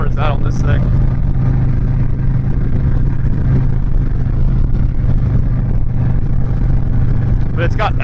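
Custom Stage III Harley-Davidson Sport Glide held at high RPM, a steady loud low engine drone throughout, with someone talking over it.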